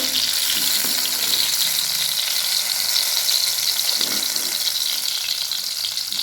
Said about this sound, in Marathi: 1-2 मिनिटं आपल्याला चांगलं बारीक गॅसवर तळून घ्यायचं आहे.